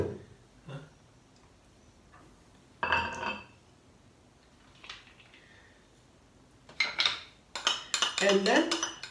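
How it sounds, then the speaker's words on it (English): Chopped tomato, avocado and onion go into a bowl with scattered clinks and clatters of utensils, a quiet patch between bursts and a busier run of knocks and scrapes near the end; no speech. "So I have here this classic tomato, avocado, onion. Put it right away into my bowl."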